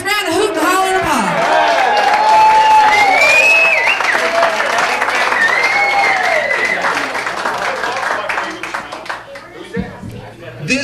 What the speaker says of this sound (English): Give him a nice round of hoot and holler and applause.